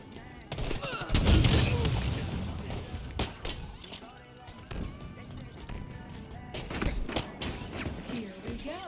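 Sniper and rifle shots crack in a video game firefight, several sharp reports scattered through the stretch with thuds and movement, while players talk over the action.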